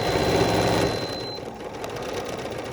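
A sewing machine whirs through a quick run of stitches, its needle chattering rapidly. It eases to a slower, lighter rattle with no talking.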